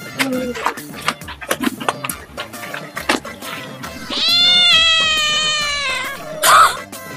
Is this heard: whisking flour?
no